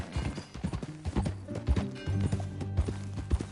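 Rhythmic clip-clop of horse hooves on a hard surface in the video game Red Dead Redemption 2, steady and close, with a low musical drone underneath.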